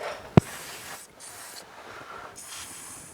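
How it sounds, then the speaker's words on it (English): Contact cleaner sprayed onto a Yamaha YFZ450R quad during a clutch rebuild, heard as a sharp click followed by several close, loud aerosol hisses, with short pauses between bursts. "I'm just going to get some contact cleaner and spray that off."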